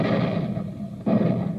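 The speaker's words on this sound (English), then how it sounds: "it takes tons of smokeless powder to keep those big guns booming" Booming artillery fire from big guns in a radio-drama sound effect: sustained, loud rumbling blasts that fade briefly, then a fresh heavy boom strikes and rolls on, with no voices.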